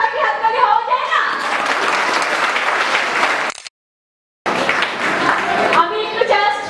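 Audience applause for a school drama performance fills the space loudly and steadily, breaks off into a second of silence, then resumes with the same dense clapping to the end.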